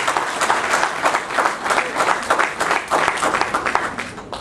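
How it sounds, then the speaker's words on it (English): Audience applause for a guest during a vote of thanks, steady dense clapping from a full room that holds evenly through the whole stretch with no voices over it. "And I would like you all to give a round of applause to Parakrama."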